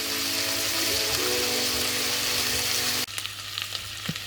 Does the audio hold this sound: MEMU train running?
no